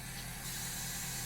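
Air suspension dumping air on a 2019 Ford F250 diesel truck: a steady, continuous hiss of escaping air with a low idling rumble underneath, unbroken throughout.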